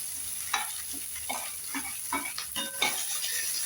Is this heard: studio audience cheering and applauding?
no